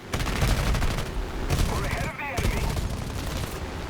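Aircraft machine guns in the War Thunder video game rattle out in loud, rapid bursts with a brief gap midway, close and harsh over engine drone.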